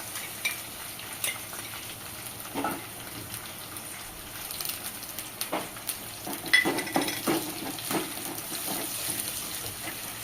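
Bay leaf and ginger-garlic paste frying in a pan for chana masala, a continuous close sizzle with scattered spoon scrapes and stirring clatter throughout.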